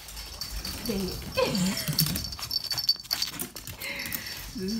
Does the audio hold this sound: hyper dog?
yes